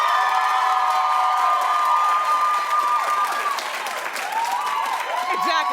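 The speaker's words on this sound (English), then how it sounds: "Clap if you want Beyonce to win." A television talk show studio audience claps and cheers loudly and steadily, with whoops and shouts rising above the applause and a voice breaking through near the end.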